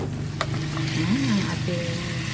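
Pork steak sizzles steadily in a frying pan, a constant crackling hiss with a faint clink early on and low tonal background hum, no talking over it.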